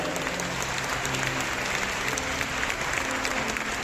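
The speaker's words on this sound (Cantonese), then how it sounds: "或者我哋都俾再一次俾掌聲" Steady applause from a crowd at a Christmas Eve concert, dense and continuous clapping throughout with no pauses, fairly loud and close.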